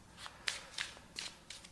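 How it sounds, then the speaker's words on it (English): Tarot cards are shuffled by hand in short crisp riffling bursts, about five quick flurries close to the mic, soft overall with no talking. "let's just talk about this again while I'm shuffling for your advice and guidance cards"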